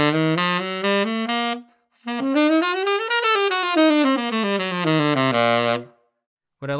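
Jazz line played with ghost tonguing, or doodle articulation, a smooth legato run of notes rising and falling in quick succession, close and clear across two phrases with no talk.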